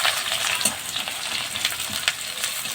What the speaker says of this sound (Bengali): পেঁয়াজগুলো দেখুন লাল করে ভেজে নিয়েছি